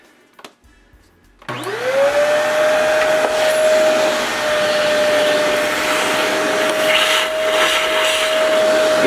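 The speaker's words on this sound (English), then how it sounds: "Vacuum again." After a quiet moment, a vacuum cleaner switches on close by and runs with a loud, steady whine, drawing dirt out of drilled holes in a concrete floor while a flooring transition strip is installed.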